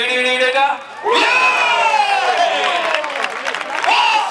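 Crowd at a bull-dodging recortes contest in Peralejos de Abajo cheering and shouting loudly, a dense roar of voices and whoops swelling after a brief lull, with applause mixed in.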